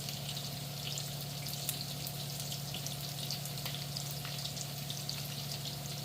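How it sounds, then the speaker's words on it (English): Carnitas pork frying in a pan, a steady close sizzle with light crackling pops throughout, over a low constant hum, with no talking. "Carnitas all fried up."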